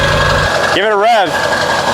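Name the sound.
7.3L Powerstroke diesel engine revving with new turbo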